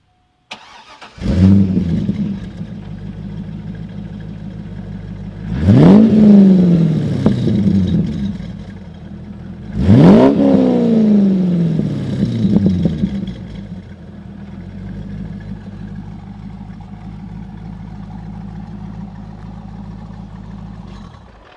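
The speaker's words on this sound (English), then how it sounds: "We'll do an exhaust sound. Like you said, there's some cheap exhaust on it, but it does sound halfway decent." A C5 Corvette with a cheap aftermarket exhaust cranks and catches, then settles into a steady idle broken by two sharp revs that climb and fall away, heard close and loud with no talking.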